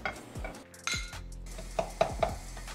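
Eggs being cooked in a home kitchen: spoon or spatula scrapes and clinks against a pan and dishes in a few sharp taps, with a low background hum and no talking.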